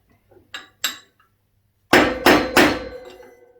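A rusted front wheel bearing on a Suzuki DR200 motorcycle is hammered out, with two lighter taps followed by three loud, close metallic strikes that ring and fade after each blow.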